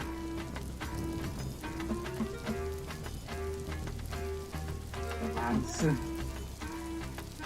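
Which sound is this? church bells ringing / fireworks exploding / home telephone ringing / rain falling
rain falling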